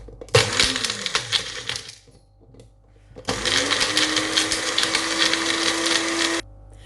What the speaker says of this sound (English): then we're just going to grind this now. So I'm just going to grind it.